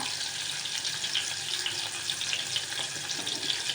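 Onion pieces fry in a pan, a steady soft sizzle with faint crackles and pops, fairly quiet and continuous with no talking.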